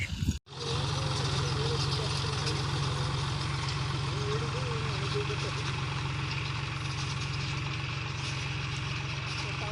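A tractor engine idles with a steady low rumble throughout, close by, while voices talk faintly over it.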